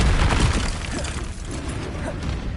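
The Confringo explosive spell from Hogwarts Legacy goes off as one loud, crackling blast at the start, followed by a rumbling, gritty decay that trails off.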